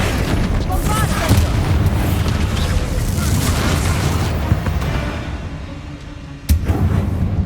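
The Bombarda spell in Hogwarts Legacy sets off loud, booming in-game explosions that rumble on for several seconds, with a second sharp blast near the end.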